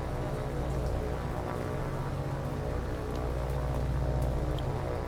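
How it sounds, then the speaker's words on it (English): Steady rain hiss in the naval combat game War on the Sea, a broad continuous wash with low rumbling underneath, constant and fairly loud throughout with no talk over it. "nice rainy day for us."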